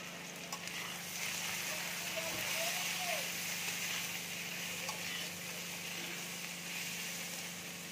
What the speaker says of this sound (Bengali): টমেটো দিয়ে একটু ভেজে নেব।